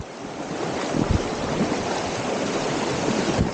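Class 1 and 2 rapids on Hat Creek, a clear mountain stream, roar in a loud, continuous broadband rush of churning water, close and steady throughout with no voices.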